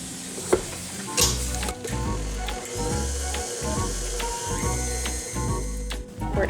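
Brown sugar and melted butter mixed together in a bowl for s'mores cookie bars, with a continuous scraping, churning texture and a rhythmic low thumping from the mixer throughout.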